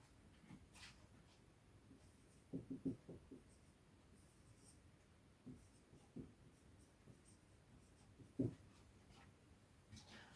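Quiet scratches and taps of a pen or chalk writing physics equations for a lecture on the hydrogen atom and the Runge-Lenz vector come in short irregular strokes over faint room tone, with a few sharper marks.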